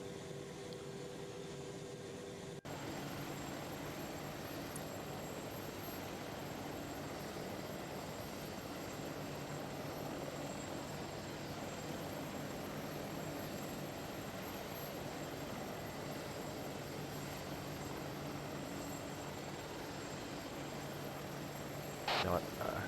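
Apache attack helicopter in the Arma 3 military game, flying with a steady, continuous rotor and engine drone that holds at a constant level throughout, with voices talking over it.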